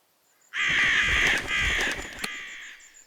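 Crows or ravens caw in the zoo-building game Zoo 2: Animal Park, a single loud, harsh, drawn-out call lasting about two seconds that cuts off sharply against a quiet background.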